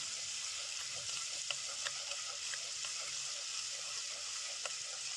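Seasoning sizzles in hot oil for a catfish tagine, a steady close frying crackle with scattered small pops and faint stirring clicks, quiet and without talk.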